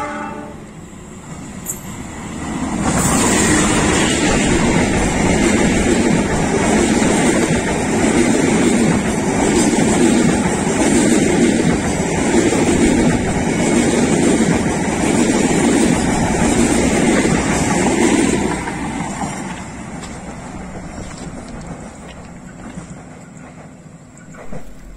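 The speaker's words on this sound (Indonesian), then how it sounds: "baru saja melintas kereta api Lodaya" The Lodaya passenger train passes Ciawi station in Tasikmalaya with a loud, close, sustained roar and rumble of wheels and carriages. It swells quickly, holds for about fifteen seconds, then fades away.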